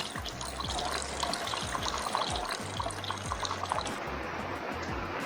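Heavy rain drums steadily on a campsite awning, a dense, continuous patter with scattered louder drips standing out close by, and no voices.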